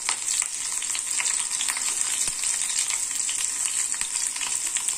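Green chili paste sizzles and fries in hot oil with cumin seeds and curry leaves, a steady close crackle with occasional stirring scrapes, no voices over it.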